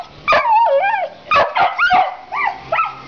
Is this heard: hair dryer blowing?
no